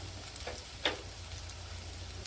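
Skunk vine leaf fritters sizzle steadily in hot oil, a constant crackling hiss with a couple of brief louder spatters.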